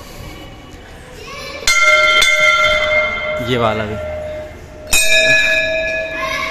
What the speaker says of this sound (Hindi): मंदिर आओ और घंटा ना बजाओ ऐसा कुछ हो सकता है